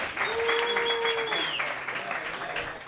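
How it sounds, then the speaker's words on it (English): Audience applause and cheering at a comedy roast battle in a New York club, loud dense clapping that fades slightly toward the end, with a whistle-like tone and faint voices mixed in. "Give them a round of applause, ladies and gentlemen"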